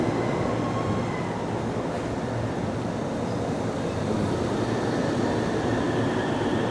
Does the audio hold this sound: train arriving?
yes